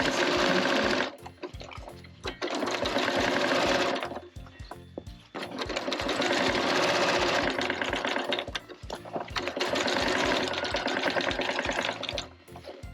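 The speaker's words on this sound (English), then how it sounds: "As I'm top stitching, I am just lining everything up with the outer edge of my foot" A sewing machine top stitching a quilt caddy made from an old quilt runs in three long, loud bursts of rapid stitching, each a few seconds long, separated by short pauses.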